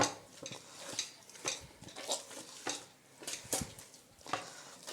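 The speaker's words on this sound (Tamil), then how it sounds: "எண்ணெயிலே இந்த மாவை நல்லா மிக்ஸ் பண்ணிக்கலாம்" Wheat flour parotta dough is worked in oil by hand, giving soft, faint, rhythmic squelching and slapping roughly twice per second, with occasional light clicks and no talking.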